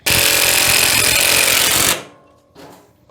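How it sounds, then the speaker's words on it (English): A cheap drill drives a self-tapping screw into trailer metal with a loud, strained, buzzing whine for about two seconds, then stops abruptly, followed by a brief quieter rattle. "My cheapy drill did not like that"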